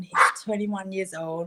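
A dog barks and yips in short strained bursts right over a person talking, the two sounds overlapping closely.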